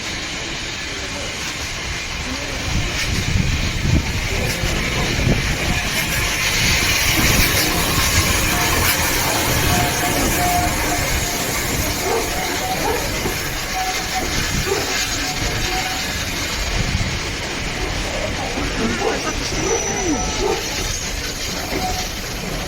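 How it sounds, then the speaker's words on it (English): A steam train running close by, a continuous loud rumble and rattle of rolling carriages with faint clickety-clack and hiss that persists for over twenty seconds, with no talk. "That's the steam train we're going on."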